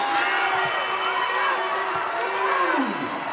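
A large indoor crowd at a women's college basketball game roars in a steady, echoing wash of noise, with a whistle-like tone sliding down near the end.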